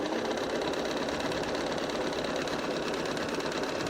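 A sewing machine stitching seams on a posies quilt pattern, a continuous close rattling whir at an even pace throughout, with no pauses and no talking.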